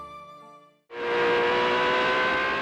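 A Ferrari car engine on a test drive, a fading tonal hum that cuts out briefly before the engine bursts in loud and close, then holds a steady, strong roar to the end.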